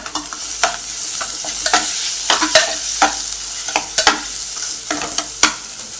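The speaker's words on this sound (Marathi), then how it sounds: "दोन मिनिटभर परतून घेऊया तर पाववाड्याची भाजी आपली रेडी आहे" Spiced potato filling for pav vada is sautéed in a pan, with loud spatula scrapes and stirring knocks over a continuous frying sizzle, no voices.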